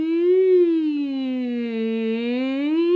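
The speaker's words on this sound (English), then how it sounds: "Here's an exercise, I call it the E siren." A human voice sustains an "E" vowel in a siren-like pitch glide, rising slightly, dipping lower, then rising again over three seconds, steady and clear with no other sounds.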